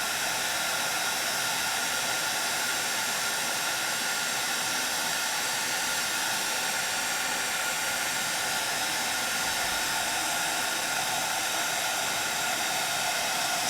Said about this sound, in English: I'm moving my heat tool accordingly.